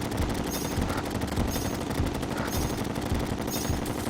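Gun fired continuously by a player in Terraria, a dense, loud rapid-fire rattle that never stops for the whole stretch, with a constant wash of game noise beneath and no talking.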